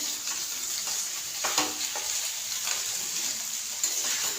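An egg mixture fries in a pan with a steady, moderately loud sizzle, broken by occasional soft scrapes and ticks.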